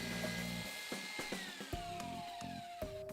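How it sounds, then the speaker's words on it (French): A jigsaw cuts through a laminate floor board with a steady buzzing, whining motor drone. The pitch shifts in steps over about three seconds of continuous cutting. "Coupez la lame à la scie sauteuse."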